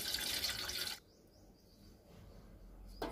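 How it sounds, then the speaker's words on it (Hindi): Water splashes into a pot set on a gas stove for steaming rice papad, a loud pour for about a second, then it stops and quieter dripping and faint ambient sounds follow. "अब बर्तन में थोड़ा पानी डाल देते हैं"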